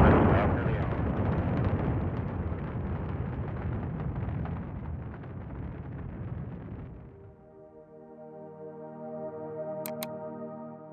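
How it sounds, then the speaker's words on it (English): A rocket engine ignites and lifts off with a loud broadband roar that slowly fades over several seconds, then gives way to sustained musical tones. "8, 7, 6, 5, 4, 3, 2, 1, 0, ignition, liftoff"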